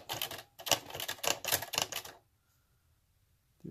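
Keys clack rapidly on a Singer Professional T-62 typewriter, a close, loud burst of strikes for about two seconds before it falls quiet.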